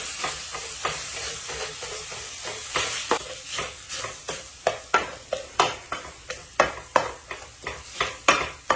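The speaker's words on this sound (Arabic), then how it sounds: "والآن أبحث الفاصوليا" Yemeni beans frying in a pan with tomato and coriander, a low sizzle under a rhythmic series of spoon or spatula strikes and scrapes, growing sharper and more regular toward the end.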